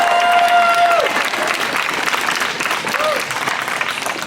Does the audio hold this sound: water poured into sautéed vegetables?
no